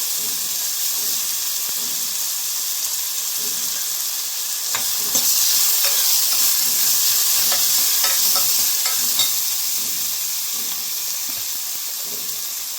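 Onions and green chillies fry in a hot pan with a bright, continuous sizzle, broken by repeated scraping and tapping strokes of a spoon stirring them close by.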